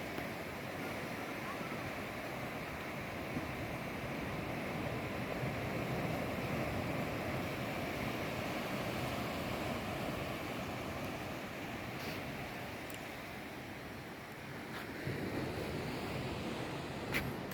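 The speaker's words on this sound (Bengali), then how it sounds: "দিগন্ত বিস্তৃত সমুদ্র" Sea waves at Palolem Beach in Goa wash in as a steady, broad roar of surf, continuous and fairly close, with wind noise buffeting the microphone throughout.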